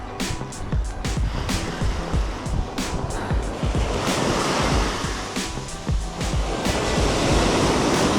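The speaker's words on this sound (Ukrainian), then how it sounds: "Але насолоджуйтеся хвилями" Autumn waves break and wash continuously along a shore at a trout fishing spot, a loud steady surf roar with wind buffeting the microphone throughout.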